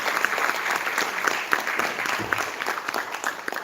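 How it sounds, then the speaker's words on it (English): A crowd at a national social hackathon finale gives a steady round of applause as the chief guest arrives, the even clapping filling the room with no one speaking. "Huge round of applause for our chief guest"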